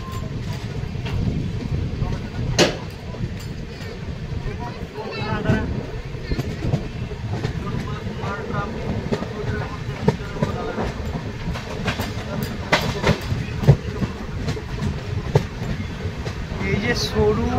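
The Padatik Express passenger train, slowing near the Jaldhaka river bridge, rumbles with steady clickety-clack and wagon rattle heard from on board, with occasional sharp knocks and faint talk.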